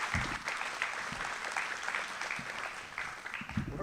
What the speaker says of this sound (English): let's give all those individuals a round of applause for everything they do